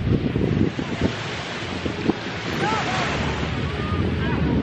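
Wind buffets the microphone on a Dubai beach while surf rolls in, a loud, steady wash of noise with brief gusty bursts early on.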